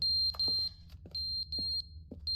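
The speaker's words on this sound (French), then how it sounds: "sortez-moi d'ici avec ce bip incessant" An alarm in The Stanley Parable beeps incessantly: steady high-pitched tones cut by short gaps, loud and close, with a faint low hum beneath and no talking.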